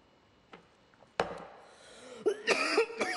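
A speaker in a parliamentary chamber gives a couple of sharp, close coughs in quick succession, followed by rough throat clearing and strained vocal noises, with no words spoken.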